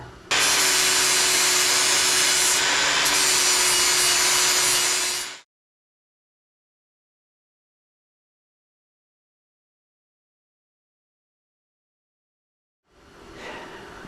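An angle grinder working hot steel plate for a Champion 7-ton gas log splitter's wedge and ram push plate, a loud close continuous grind lasting several seconds, then silence before the grinding starts again.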